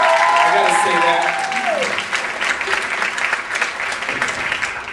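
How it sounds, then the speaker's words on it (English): Audience applause for troops at a comedy night, a steady dense clapping that fills the room and fades slightly toward the end, with a brief tonal sweep early on. "I wish they could hear your applause from here"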